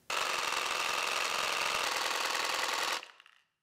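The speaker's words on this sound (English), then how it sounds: "once you try the Mix Quick for your reciprocating saw, you'll never go back to mixing these cans of paint by hand" A reciprocating saw fitted with a Mix Quick paddle attachment churns a can of paint in a garage, a loud, steady rattling buzz for about three seconds that then cuts off and winds down.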